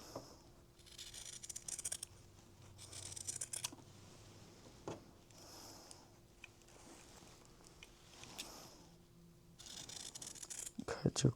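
Scissors snip and rasp through quilt fabric up close, producing soft, quiet repeated cuts and rustling strokes in loose bursts, with faint background hum and possible low talking.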